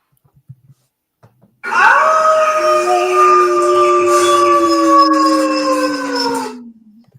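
A long, loud wolf-like howl rises after a few faint clicks, sliding slightly downward as it holds for about five seconds before trailing off.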